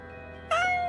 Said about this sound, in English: I hear the cat meowing.